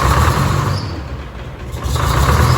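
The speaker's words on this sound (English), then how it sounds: "That is definitely our Oliver tractor with the screaming Jimmy engine." An Oliver tractor fitted with a screaming Jimmy engine runs steadily and loudly close by, a dense mechanical roar that dips briefly in the middle before surging back up.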